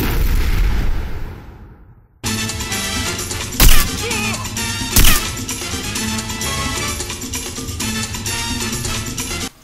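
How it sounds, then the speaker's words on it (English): Bomb blast from rigged stage lights in the video game Hitman: Blood Money: a loud rumbling burst that fades out, then dense game music with two sharp booming impacts cutting through it. "Coming prepared with a bomb, I rig the lights and detonate appropriately,"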